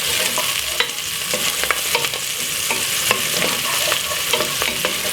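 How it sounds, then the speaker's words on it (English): Chopped spring onion, garlic and fresh thyme sautéing in a pan for a Jamaican stir fry: constant loud sizzle with brisk, regular spatula scrapes and taps close by, no talking. "1 chopped up spring onion, and saute this after about 2 to 3 seconds."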